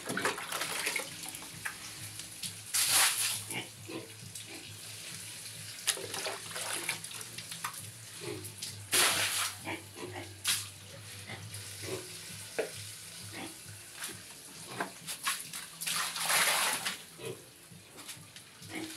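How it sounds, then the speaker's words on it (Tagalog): A hose sprays water across a pig pen floor to wash away droppings, giving a continuous hiss and splatter that surges in louder bursts every few seconds, with pigs nearby. "Pasyahan ko na direct tubig ang kanilang tae."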